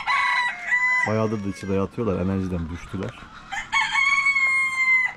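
A backyard flock of chickens crows and clucks nearby, a rooster's harmonic crow rising through several bursts in the middle while other birds cackle around it, with someone talking alongside.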